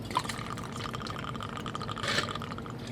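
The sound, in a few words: pouring Jack Daniel's Honey whiskey for a cocktail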